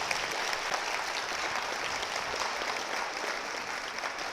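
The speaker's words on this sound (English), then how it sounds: "Come on, let's clap it up for them." An audience claps for graduates at a commencement ceremony, a steady, even wash of applause from a large crowd, fairly distant and filling the hall without talk.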